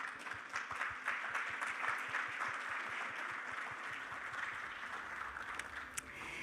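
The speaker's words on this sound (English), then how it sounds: "please give a big round of applause." A conference audience at an aviation law session gives a round of applause, a steady crowd clapping with a few distinct nearby rhythmic claps early on, continuing evenly for several seconds.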